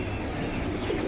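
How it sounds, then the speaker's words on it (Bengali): Pigeons coo at a busy pigeon market in Keraniganj, Dhaka, a short, fairly close run of throaty cooing over a dense background murmur. "এটা কি কবুতর শুভ ভাই?"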